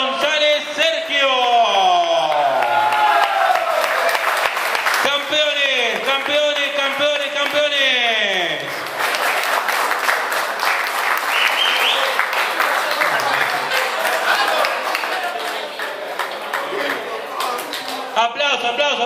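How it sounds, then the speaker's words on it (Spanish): A crowd applauds the champions of a mixed-species river fishing tournament on the Río Colastiné, clapping sustained under a loud, animated announcer's voice throughout. "Aplauso, aplauso, aplauso para los muchachos"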